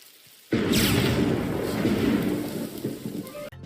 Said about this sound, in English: A bolt from the blue hits him square on.